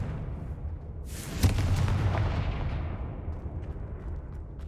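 A Confringo fire spell cast in Hogwarts Legacy bursts into a loud, sharp blast with a heavy boom that decays into a long rumbling roar, against steady low game ambience and no talking.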